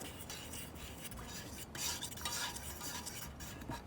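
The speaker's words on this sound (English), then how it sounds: "just stir that in" A spoon stirs a vanilla drink in a titanium camping pot outdoors, a continuous scraping swirl with light metallic clinks, close and fairly quiet.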